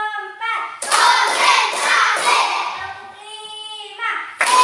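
Schoolchildren in a classroom clap their hands in a counting clap game, a burst of sharp, overlapping claps in quick rhythm between a teacher's chanted voice and the children's voices.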